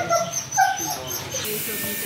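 A dog whimpers and yips while its wound is treated with antibiotic ointment, with a few short high cries near and close over people talking.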